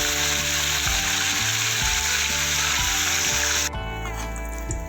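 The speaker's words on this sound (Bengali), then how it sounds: "মাছগুলো লাল লাল করে ভেজে নিতে হবে।" Amudi fish frying in hot oil, a loud continuous sizzle with crackling bursts and faint clinks, the sizzle dropping abruptly near the end.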